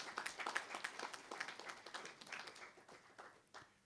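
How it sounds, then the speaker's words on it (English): Applause rises from an audience at an aviation symposium in Zanzibar, a faint, steady patter of many hands clapping for about four seconds before tapering off at the end. "Please give them a round of applause."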